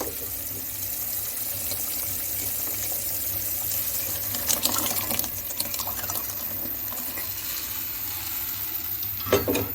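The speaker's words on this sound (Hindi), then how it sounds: "इसमें फालसों का गोदा डालेंगे और इसको मज़ीद 6 से 7 मिनट पकाएंगे" Falsa fruit pulp simmers in thick sugar syrup for sharbat, giving a continuous close bubbling sizzle with occasional stirring scrapes and clinks, and no one speaking.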